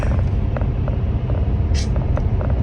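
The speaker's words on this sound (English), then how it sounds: "Truck driving." Hotshot truck driving on the road near Phoenix, Arizona, with a steady low engine rumble and road noise throughout, faint mechanical creaks and a brief hiss partway through.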